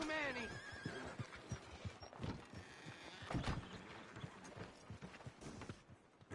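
Horse hooves clip-clop in Red Dead Redemption II, a steady mid-distance patter under game dialogue with a brief whinny near the start and background ambience.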